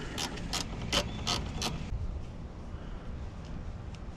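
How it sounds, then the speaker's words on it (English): A swivel-head ratchet turns a bolt on a Ford Transit van while its cooling fans are being replaced: a quick run of about six sharp clicks, then quiet workshop background. "this ratchet works great for that"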